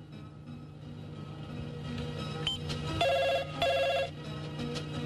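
A telephone rings on the other end of a call in a Hong Kong TVB drama, two clear electronic ringing bursts standing out over a low background hum, with no talking.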